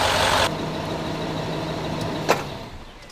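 A Range Rover Sport engine idling up close cuts off abruptly after half a second, leaving a low residual hum and a single sharp click in the quiet that follows.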